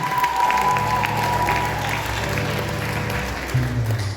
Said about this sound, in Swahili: Tuwapigie makofi jamani.